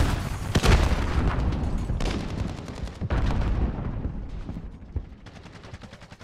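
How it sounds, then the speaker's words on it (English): Gunfire and a grenade blast echo through a Call of Duty: Modern Warfare battle, with loud repeated shots in bursts and heavy booms rolling across the scene, close and dense. "Throwing grenade!"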